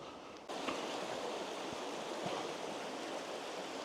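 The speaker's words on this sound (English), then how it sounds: "We're going to go over the brook" A brook in the Peak District's winter woodland flows as a steady, broadband rush of water, constant and fairly close, with no voices over it.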